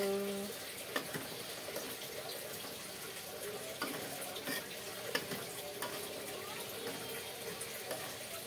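Tempe being stir-fried in a pan, a soft steady sizzle with occasional scrapes and clicks of stirring, fairly faint and close, with no talking.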